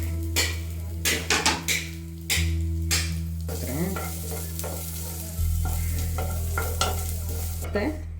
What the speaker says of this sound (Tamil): அந்த தேங்காயை நான் வறுத்துக்கிறேன்.